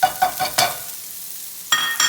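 Shallots in olive oil sizzle in a pan as they are stirred, giving several quick bright scraping strokes, then a short quiet gap and two more stirring scrapes, with no speech.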